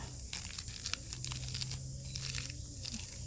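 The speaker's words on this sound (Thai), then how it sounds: "ใบหูเสือเป็นอะไรที่ขยำเนี่ย ใบเขากรอบมากนะให้ฟัง" Crisp Indian borage (tiger ear) leaves are crumpled by hand, making close, dry crackling and crunching in a steady run of small bursts.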